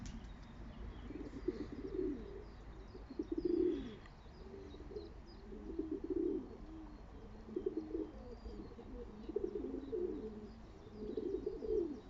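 Soft, low cooing from pigeons repeats in short rounded bursts over a quiet background hum, with a few faint chirps mixed in.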